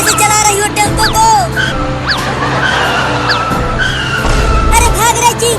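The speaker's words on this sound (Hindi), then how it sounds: "अरे अरे, कैसे चला रही हो टेम्पो को?" A three-wheeler tempo driven erratically, with tires skidding and squealing in a few sharp swoops over steady engine noise, close by, while people shout and talk over it.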